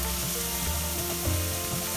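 Jalapeño and garlic half-frying in a pan over a medium flame, a steady soft sizzle with faint stirring scrapes, quiet and even throughout.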